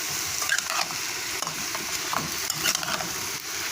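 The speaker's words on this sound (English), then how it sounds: "I just going to stir the rice" Rice being stirred into sautéed herb seasoning in a pot, a soft sizzling hiss with light scraping stir strokes, close and fairly steady.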